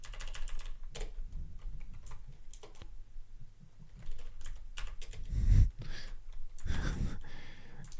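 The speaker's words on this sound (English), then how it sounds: "now I'm literally just typing things for the sake of typing" Fast, irregular keystrokes on a computer keyboard, close and fairly quiet, with a few louder bursts of clicking near the end and no talking over it.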